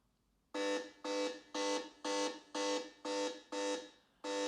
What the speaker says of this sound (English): alarm bell. Let's try that.